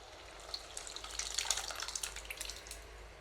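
Cooked sambar with drumstick poured from one vessel into a pot, a soft continuous liquid splash and trickle, close and fairly quiet, with no talking.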